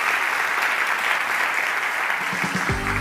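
An audience at a women-in-economics panel in Peru applauds loudly and continuously, the clapping filling the whole stretch before a low tone enters near the end.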